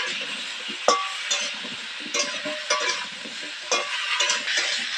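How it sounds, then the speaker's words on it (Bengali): Potato and cauliflower frying together in a pan, a steady sizzle with intermittent scraping and clinking of a metal spatula against the pan, close and moderately loud with no voices. "আমি আলু আর ফুলকপি একসাথে ভেজে নিলাম"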